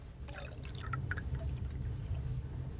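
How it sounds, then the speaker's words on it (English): Ethyl benzoate, about 7.5 milliliters, poured into a laboratory flask for saponification, a faint brief trickle and splash over a steady low hum of the room. "And we pour it into the flask."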